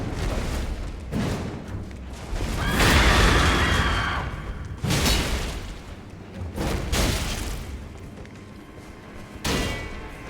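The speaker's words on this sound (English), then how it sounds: "Cannon in the room." Cannon fire in Elden Ring's Stormveil Castle: several heavy booming blasts at irregular intervals, one sustained rumbling burst near the middle, loud over a constant game-ambience bed with no talk.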